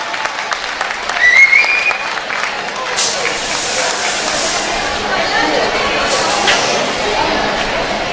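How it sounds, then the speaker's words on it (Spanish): Audience applause breaks out in a hall during the final of a song festival, a steady wash of clapping that swells near the start and holds for several seconds, with some voices mixed in. "Fuerte el aplauso, chiquillos."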